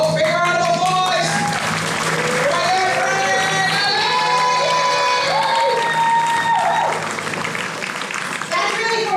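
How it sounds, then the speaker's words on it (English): A loud crowd at a Halloween horror make-up show at a theme park claps and cheers with whoops and shouts, while music and voices sound over the applause. "Folks, big round of applause."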